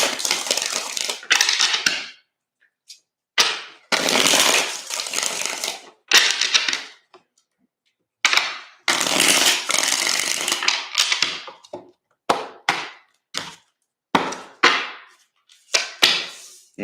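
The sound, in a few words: shuffling tarot cards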